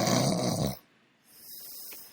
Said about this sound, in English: divorce you if you keep snoring.